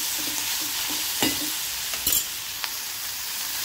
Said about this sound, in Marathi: मीठ टाकल्यानंतर कांदा लवकर भाजतो